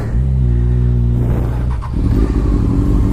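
A motorcycle, an F4i or ZX-14R sport bike, pulls hard on a highway, its engine note climbing through close, loud revs before a brief dip at a shift and renewed acceleration.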